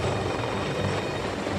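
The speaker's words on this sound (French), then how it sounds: "L'hélicoptère tente désespérément d'apponter." A helicopter struggles to land on the pitching flight deck of a ship at sea, its rotor and engine roar steady, loud and dense throughout, with no voices.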